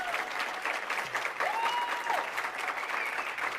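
An audience gives graduates a louder round of applause at a 2017 Black graduation celebration, a steady, thick wash of clapping throughout with no voices over it.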